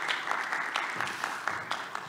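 An audience at a tech conference on open-source ecosystem security applauds in a brief, even burst of many hands clapping, with some individual claps standing out.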